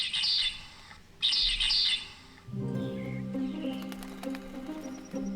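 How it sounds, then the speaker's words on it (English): Song of a medium ground finch: two short bursts of bright, buzzy high chirps separated by a pause, followed by fainter, lower tonal sounds. "the medium ground finch sounds very much like this"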